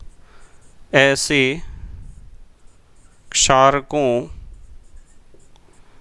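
Pen or marker writing during a Hindi-language chemistry lesson on acids and bases, faint scratching strokes running under two short bursts of a man's speech.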